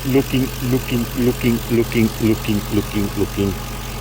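A 1999 Jaguar XK8 engine idles nearby with a rhythmic rattling knock repeating steadily, about three beats per second, loud and close.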